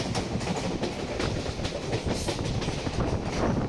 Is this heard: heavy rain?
no